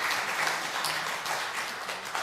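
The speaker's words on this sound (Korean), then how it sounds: "박수 부탁드리겠습니다" A church congregation applauds during a Sunday worship service as a certificate is presented to a member, with steady, dense clapping throughout.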